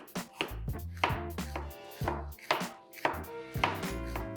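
A knife chops vegetables for roti tacos on a board in steady, crisp strokes, roughly two per second, close and clear with no talking.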